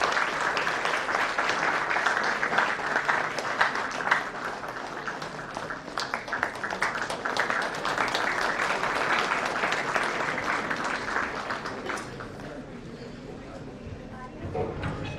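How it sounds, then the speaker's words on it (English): Hall audience at a memorial lecture gives sustained applause, a dense wash of clapping that holds steady for over ten seconds, then gradually thins and fades toward the end. "Can we have a huge round of applause,"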